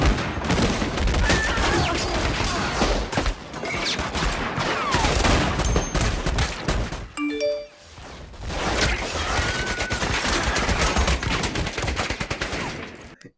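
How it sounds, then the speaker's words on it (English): Rapid bursts of gunfire in a tavern shootout, dense overlapping shots and crashes for several seconds, a brief near-silent gap with scattered clinks, then another heavy, chaotic volley of shooting. "Guns were just blazing, everyone shooting each other"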